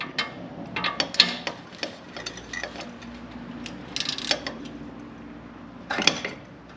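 Metallic clinks, ratcheting and tool clatter from a mechanic working on 14mm bolts on a Mitsubishi Evo 8/9 16G turbocharger, scattered close taps and rattles at moderate-low level with a few sharper bursts, no talking.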